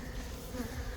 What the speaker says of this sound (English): That big bee.